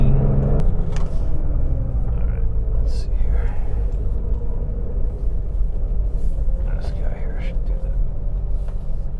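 A Jeep XJ drives along on a cold, dark evening, its engine and road noise a steady low rumble close by throughout, with faint sounds of movement over it.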